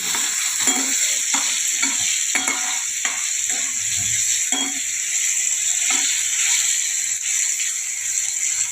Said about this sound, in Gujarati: ટામેટાને બરાબર આપણે શેકાવા દઈશું. મરચાંને બરાબર શેકાવા દઈશું.